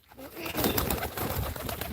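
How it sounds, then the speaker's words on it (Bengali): Pigeons coo close by, soft throaty calls overlapping in a short burst with fluttery background noise. "যে কবুতর উঠতিছে"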